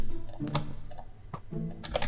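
Keys on a computer keyboard and a mouse clicking in a few irregular clusters of light, close taps, with brief pauses between them and no talk.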